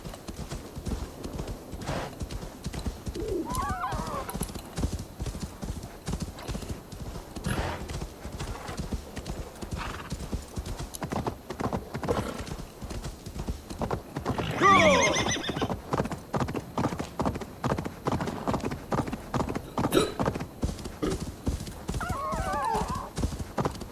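Hooves clip-clop steadily as a horse gallops in Assassin's Creed Valhalla, breaking into loud whinnies along the way, with no talking over it.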